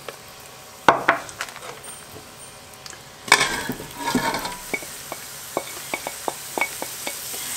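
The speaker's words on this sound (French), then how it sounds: "Et on va faire suer tout ça, le faire fondre correctement" Shallots and leeks sweat in butter in a pot, giving a quiet, steady sizzle with a few sharp utensil clacks and stirring scrapes against the pot, and no talking.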